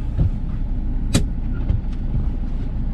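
A Wuling Confero S driving out of town on the road, with muffled cabin engine and road rumble, steady and low, broken by a few sharp clicks and knocks inside the car.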